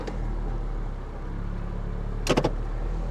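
A salvage car at a Copart lot idles with a steady low engine hum, then a brief cluster of sharp mechanical clatter near the end.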